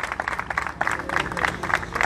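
Brisk applause from a gathered crowd greeting an honoured urban guard officer at an awards ceremony, a rapid, even patter of many hands clapping throughout, fairly close and without speech.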